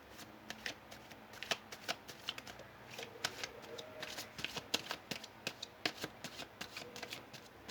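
Playing cards are shuffled by hand in a quiet room, giving soft, close riffling flicks and taps in an uneven rhythm with no other sounds over them.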